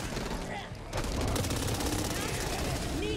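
Sustained automatic gunfire from the Back 4 Blood video game, a dense, loud rattle of rapid shots that builds after a brief lull and keeps going without a break.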